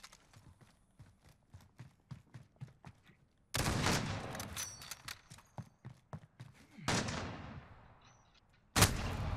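Call of Duty Modern Warfare gunfire: a series of sharp rapid shots in a quick rhythm, then loud sustained bursts of automatic fire and explosions that swell and fade, ending with another sudden loud burst.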